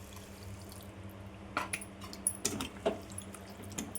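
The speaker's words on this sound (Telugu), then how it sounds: "ఇప్పుడు మనం కాస్త నీరు వేసుకొని మళ్ళీ మూత పెట్టుకోవాలి." Water goes into a pot of simmering prawn curry in a home kitchen, with several short splashy pours and drips that are close and clear over a low background hum.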